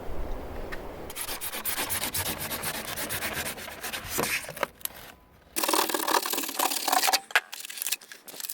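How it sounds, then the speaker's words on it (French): Insulation foam is cut by hand during a houseboat build, giving close, repeated rasping strokes that pause briefly midway and then resume more sharply. "Ok, je vais couper la mousse"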